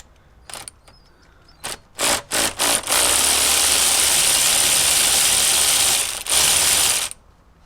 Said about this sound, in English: I'll be using my cordless ratchet.